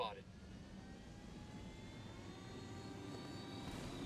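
Helicopter in a video game with a steady, droning engine hum and faint whining tones, holding at an even level throughout.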